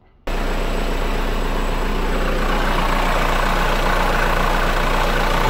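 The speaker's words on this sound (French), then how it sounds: "Je vais tourner le moteur histoire de vérifier que tout va bien." Car engine turning over after an accessory belt, tensioner and alternator pulley replacement: a brief quiet moment, then the engine catches and settles into a steady, even idle with a constant low hum and a faint high whine from the belt drive.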